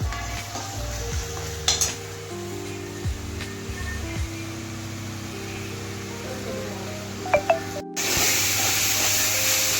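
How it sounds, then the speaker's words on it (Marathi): Onion and tomato fry in oil for an egg fry, giving a steady close sizzle broken by scraping stirs, a couple of sharp clinks near the end and a brief cut before the sizzle returns louder. "तेल सुटेपर्यंत आपण कांदा टोमॅटो भाजून घेतलेला आहे चांगलं।"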